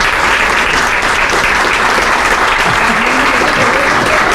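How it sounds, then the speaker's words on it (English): A crowd at a charity luncheon claps loudly and continuously, a dense, steady burst of applause that never lets up from start to finish. "stand up so we can give them a round of applause"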